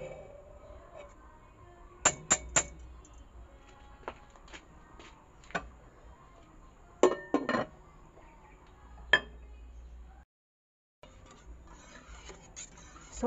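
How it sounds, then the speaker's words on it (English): Someone stirs starch in a cooking pot over a low fire in a home kitchen, giving sparse metallic clinks and scrapes of a utensil against the pot, separated by quiet stretches. "So in cooking the starch, you have to keep it stir. Keep stirring it for 5 minutes."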